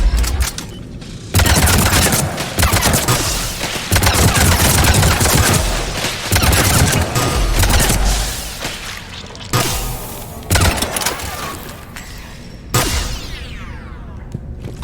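Sustained weapon fire from a Firestorm flamethrower in the sci-fi shooter Mass Effect 3, loud and dense with roaring bursts and whooshing blasts that carry through most of the stretch, broken by a few brief pauses.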